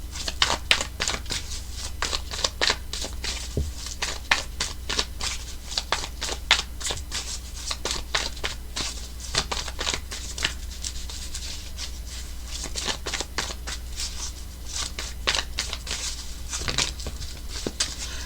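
Tarot cards are shuffled continuously by hand, a close, steady run of crisp riffling and rustling taps without any talking.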